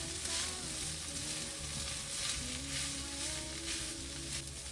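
Leftover rice tossed with a little chicken frying in a pan, a steady loud hissing sizzle with a soft bubbling crackle underneath, continuous and close, with no voices.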